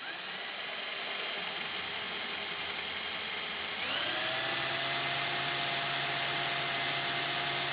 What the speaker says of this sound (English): Now just drill in a little bit, pull back, take the swarf out